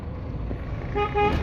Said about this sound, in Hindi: मारते रहो हॉर्न बस